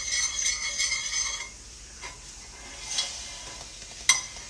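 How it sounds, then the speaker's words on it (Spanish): Milk being whisked until frothy and near boiling for Puerto Rican coffee: brisk rapid whisk strokes against the pot at first, then quieter scrapes and a few sharp metallic clinks. "a mí me encanta batir la leche hasta que salga espuma, que esté bien hirviendo"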